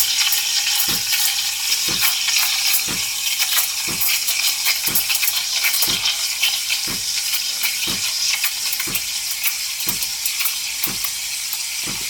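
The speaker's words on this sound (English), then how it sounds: "that's the steam I'm just filling the milk with the micro bubbles" A steam wand froths oat milk for a small cortado, producing a steady, loud, close hiss throughout with a faint ticking chirp repeating at a regular pace.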